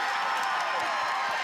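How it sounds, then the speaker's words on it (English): Softball crowd at a Virginia vs Virginia Tech college game, on their feet with a sustained roar of cheering and shouts, loud and constant with a commentator talking over it. "and this crowd on their feet."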